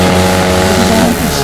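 Engine idling and rumbling steadily at an off-road trail ride charity event, loud and close, with a low harmonic drone throughout.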